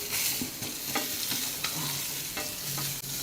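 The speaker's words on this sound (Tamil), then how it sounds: "சீரகம், காஞ்ச மிளகா, கருவேப்பிலை, இஞ்சி எல்லாத்தையும் போட்டு வதக்கிக்கோங்க." Cumin, dried chilli, curry leaves and ginger stirred in a hot pan, with a steady close sizzle and repeated scraping stirs throughout, no voices.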